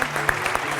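An audience applauds a performer at the close of a Macedonian television show, a brief dense patter of clapping heard at moderate volume.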